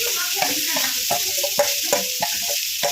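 Spring onion and cabbage stir-fried for veg manchurian, a constant loud sizzle close up, with repeated scraping and tossing strokes of a spatula against the pan at an irregular rhythm.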